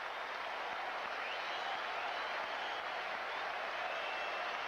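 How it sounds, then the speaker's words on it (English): Steady, broad wash of crowd applause from baseball fans at a 1995 Red Sox home game against the Brewers, honoring pitcher Erik Hanson, sustained evenly at moderate distance without a break. "The fans give a nice round of applause to Erik Hanson after allowing his first hit"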